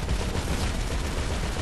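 Rapid minigun fire in a video game, a dense continuous rattle of gunfire held at a steady level with no speech over it.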